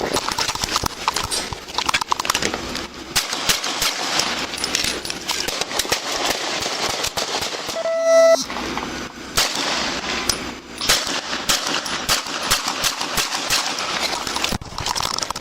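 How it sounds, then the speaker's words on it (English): Sharp gunshots ring out during a solo police armed call near a school, heard through a bodycam amid a dense, noisy clatter of sharp impacts and movement throughout. "Shots fired! 40 seconds of commands."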